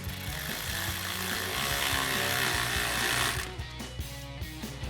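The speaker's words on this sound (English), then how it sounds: "Now we'll go ahead and tighten down this clamp with our 8 mil socket again" A tool buzzes continuously while an intake hose clamp is tightened with an 8 mm socket on a Ford F-150, loud and close, then gives way to quieter ticking at the end.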